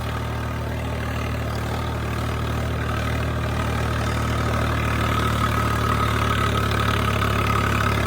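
A tractor engine runs steadily nearby, a constant low rumbling drone that grows slightly louder toward the end, with no talking.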